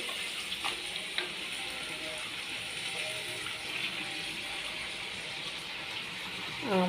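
Fish pieces dropped into a pan of simmering Karunagappally-style tuna curry with tamarind, giving a steady close sizzle and bubbling hiss throughout, with a brief louder stir or splash near the end.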